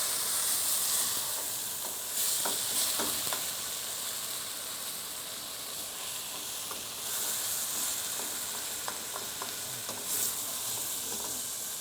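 Boar or pork meat sizzling in a pan as beer is added, a steady close hiss and crackle with faint stirring scrapes and clinks, no voices.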